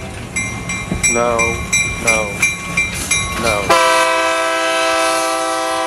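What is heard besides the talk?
train sound effect played in studio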